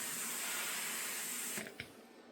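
A steamer hisses over quilt fabric in a steady, close stream of spray that runs for most of the moment before cutting off, followed by a couple of soft bumps.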